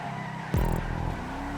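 Race cars in a GTA 5 random race, with a sudden tire skid and a sweeping engine pitch drop over a constant motor drone, fairly close and loud without speech.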